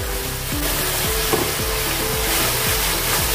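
Masala spices fry loudly in oil for a paneer curry, with a dense steady sizzle and repeated scraping strokes as they are stirred in the pan.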